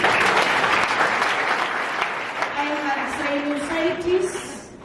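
An audience bursts into loud applause at a presentation; the clapping is strongest at the start and gradually fades, while a voice begins speaking over the dwindling claps.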